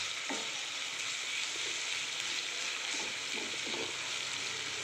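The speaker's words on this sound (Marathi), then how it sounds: "आता या तेलामध्ये मी अद्रक लसूण पेस्ट टाकून घेतो. चांगली मिक्स करून घ्यायचं आहे आपल्याला." Ginger-garlic paste frying in hot oil for chilli paneer gives a soft, steady sizzle, with a few gentle stirring scrapes. No voices are heard.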